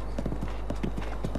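Horse hooves in The Legend of Zelda: Breath of the Wild, a brisk, even clip-clop of repeated hoof strikes in a steady galloping rhythm, close and clear throughout.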